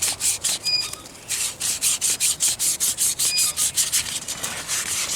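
Close, rhythmic scrubbing strokes rub a rusty metal part clean with 3-in-1 oil, about a dozen even back-and-forth passes at moderate loudness with no one talking.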